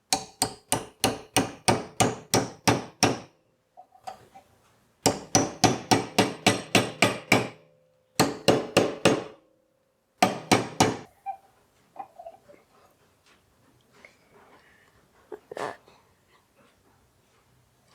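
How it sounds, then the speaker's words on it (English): Hammer blows on metal in quick, evenly spaced bursts of strikes with short pauses between, close and loud, then a few scattered lighter taps. "Gently hammer it down."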